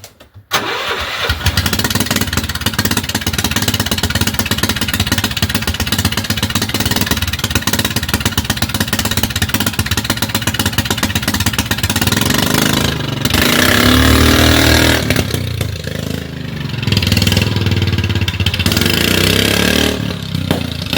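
A small engine on a CT90 is started with the choke on, catching after a brief crank and then running loud and close at a steady, buzzy idle with slight rises and dips in speed.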